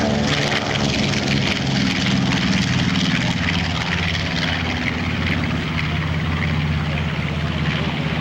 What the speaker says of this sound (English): On takeoff roll, we have Mr. Larry Kelly's little Panchito B-25 bomber